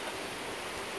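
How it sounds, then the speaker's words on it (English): Dense, steady hiss of heavy rain pouring down, constant and even throughout, with nothing else standing out. "it is pouring down"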